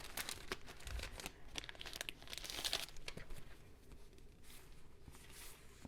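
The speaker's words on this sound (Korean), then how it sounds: "이쪽에는 뭔가 동그란 스티커 하나를 붙이고 싶어요" Round paper sticker peeled from its backing and pressed into a diary page during journal decorating, a close, quiet run of crinkling and light tearing rustles with soft taps, no voices.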